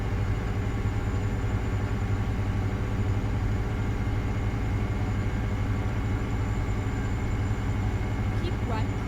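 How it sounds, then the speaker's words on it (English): Steady low drone of a Freightliner Argosy truck engine in American Truck Simulator, a constant rumbling hum with layered tones running throughout, with a brief rising whine near the end. "the Z-Mod engines have a really good sound"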